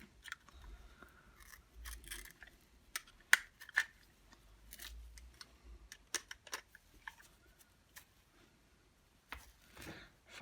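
Scissors snipping hair and fibres wrapped around the brush roll of a Vax Air vacuum cleaner head, a series of sharp, close, irregular crunchy cuts with brief pauses between them.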